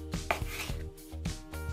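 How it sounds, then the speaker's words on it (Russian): A knife chops meat on a board into small pieces about 2 cm across, a string of sharp, fairly close cuts falling in an uneven rhythm over a steady low hum, with no talking. "Вот такими вот небольшими кусочками по 2 сантиметра порежу."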